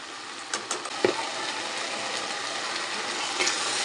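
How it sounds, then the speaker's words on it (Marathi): Spice masala of chilli powder, turmeric and coriander powder sautéing in a pan for a dry drumstick curry, a steady soft sizzle with a few brief clinks of stirring near the start, no talk. "मसाले मस्त परतून घेऊया"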